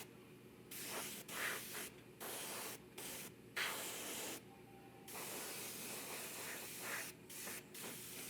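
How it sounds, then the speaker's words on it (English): Lacquer paint misted on as a top coat over a custom quarter-scale Hellboy figure, heard as repeated short hissing spray bursts of about a second each, separated by brief pauses, close and steady. "use a lacquer paint and just mist that on as a top coat"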